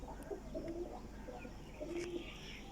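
An old Fulla Cheena flying pigeon coos softly in a few short, low calls against a quiet background hum.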